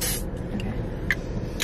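Two short bursts of eucalyptus mint room spray hiss, separated by a pause, over a low background rumble.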